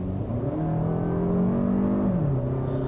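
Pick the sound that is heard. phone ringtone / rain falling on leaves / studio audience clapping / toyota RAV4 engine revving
toyota RAV4 engine revving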